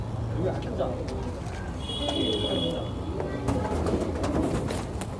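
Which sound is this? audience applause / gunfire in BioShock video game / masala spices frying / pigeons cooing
pigeons cooing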